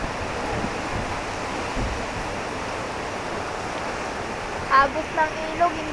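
A swollen river surging with floodwater in Typhoon Pedring gives off a continuous, even wash of noise, and short bursts of speech cut in near the end.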